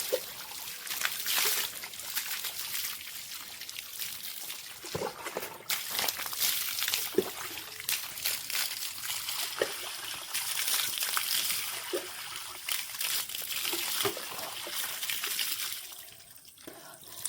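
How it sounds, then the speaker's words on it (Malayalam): Water from a bucket pours and splashes in repeated gushes over several seconds while hair is rinsed, then trickles and drips between pours, fairly close by. "എല്ലാവരും ബക്കറ്റിലേക്ക് വെള്ളം എടുത്ത് ഇതേപോലെ കഴുകുക കേട്ടോ"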